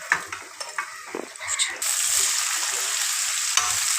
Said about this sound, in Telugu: ఒక టూ త్రీ మినిట్స్ వేపుకోండి లేదంటే మధ్య మధ్యలో కలుపుకుంటూ కూడా వేపుకోవచ్చు